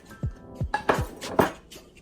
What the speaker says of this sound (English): A nice slice of ginger to the blender